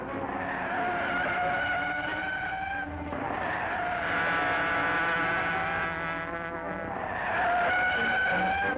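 A car engine races and tires squeal as the vehicle speeds around corners, the whine rising and falling continuously, loud and near.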